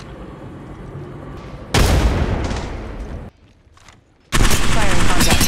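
Gunfire in the mobile shooter Apex Legends Mobile: a low rumble of distant shots gives way to two loud, dense bursts of rapid close fire separated by a brief quieter lull.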